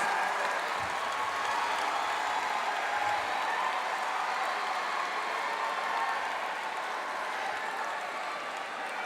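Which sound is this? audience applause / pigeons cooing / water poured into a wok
audience applause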